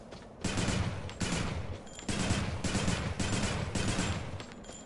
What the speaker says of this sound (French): Un autre genre de mitrailleuse.